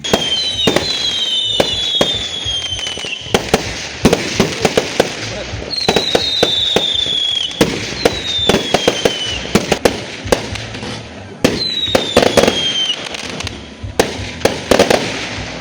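Fireworks go off at a mountain campsite during a full-moon camp, with repeated sharp bangs and crackles, whistling rockets rising and a steady crowd murmur underneath.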